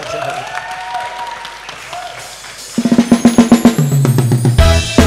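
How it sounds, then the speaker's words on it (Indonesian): Audience applause at a Javanese stand-up comedy competition bursts in midway after laughter and a brief closing line from the stage, with dense clapping rising loud and continuing to the end. "Tepuk tangan buat Badar"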